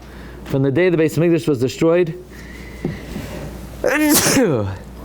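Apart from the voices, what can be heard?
sneeze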